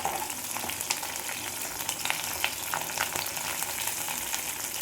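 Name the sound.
curry leaves frying in oil for country chicken fry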